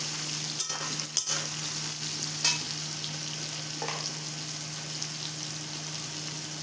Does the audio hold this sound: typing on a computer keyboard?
no